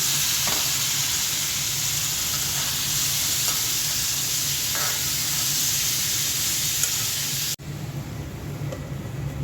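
Sweet pumpkin goes into a hot frying pan with cumin and is stirred, producing a loud, steady sizzle with faint scraping strokes throughout before the level drops abruptly near the end.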